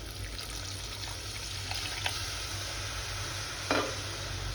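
Tamarind and jaggery water goes into a pan of brinjal curry, giving a continuous hissing simmer with faint clinks and a short splashy burst near the end.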